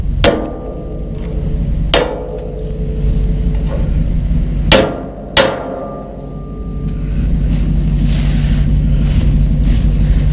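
Four sharp metallic hammer strikes ring out on an old trailer, spaced a couple of seconds apart and loud and close, over steady outdoor wind noise.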